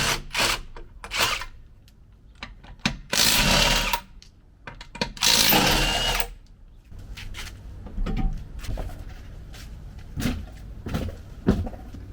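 Bolts on a Hummer H3 spare tire carrier being loosened with a power tool, heard as several loud bursts of whirring and rattling separated by pauses, followed by quieter clicks and handling noises.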